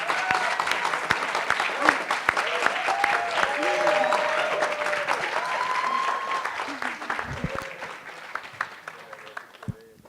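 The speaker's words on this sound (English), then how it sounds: "Good thing we're not doing audience favorites, right? The cheering." Enthusiastic applause and cheering rise from an audience after a finalist pitch at a young founders summit, sustained and loud with whoops and voices mixed into the clapping, tapering near the end.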